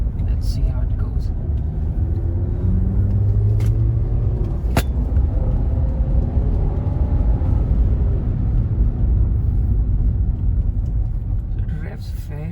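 Hyundai Elite i20 hatchback accelerating through second and third gear on a country road, a loud continuous in-cabin engine drone with rising revs over heavy road rumble, steady throughout.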